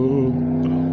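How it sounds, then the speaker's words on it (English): Car engine sound played through an Alexa smart speaker: a brief, steady, droning engine hum with a strong low tone, close and fairly loud, with no talk. "Car sound."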